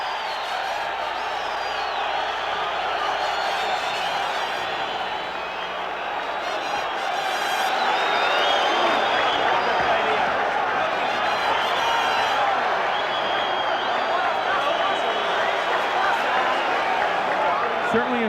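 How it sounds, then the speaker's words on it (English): Boxing arena crowd roaring steadily as Roberto Duran makes his ring entrance before facing Marvin Hagler, a dense sustained wash of cheering and shouting that swells louder midway and holds. "And listen to this crowd."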